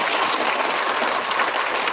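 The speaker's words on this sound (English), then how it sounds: "One more big round of applause for our fourth graders." Steady, dense audience applause at a school student recognition ceremony honoring fourth graders, many hands clapping together in a continuous wash without talk.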